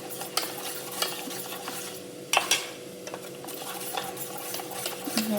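A spoon stirs flour mixed with water for a majjige saaru, a buttermilk curry with ash gourd, making a soft scraping swish against the container with a few sharper knocks and no talking.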